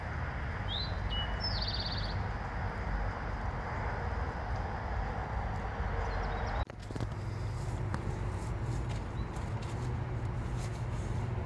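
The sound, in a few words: birds chirping in the morning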